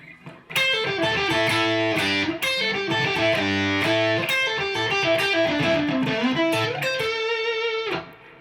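Distorted electric guitar plays a fast, expressive lead line of bends and rapid notes, loud and continuous for several seconds before stopping.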